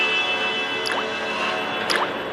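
Drops of blood fall from a cut hand onto a dough doll in an animated horror story. Two separate wet drips land about a second apart over a faint steady background hum.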